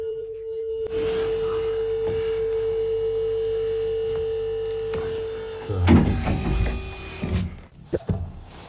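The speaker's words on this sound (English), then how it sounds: "we need to close the back door" Rear ramp door of a Kirpi military vehicle closing: a steady electric motor whine for about five seconds, then clunks and thuds as it shuts, close by.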